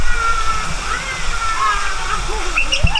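Water rushes and splashes loudly and steadily as a water park ride boat passes through a waterfall, with excited voices and shrieks of riders over the spray.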